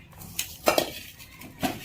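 A cooking pot is handled before oil is heated for Kathiyawadi besan dhokli curry, giving a few close metallic clinks and clanks of pot and utensils in a quiet kitchen.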